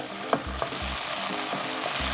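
Onion, garlic and coriander root stir-fry in bulgogi sauce over low heat, a constant close sizzle punctuated by several sharp spatula clanks against the pan.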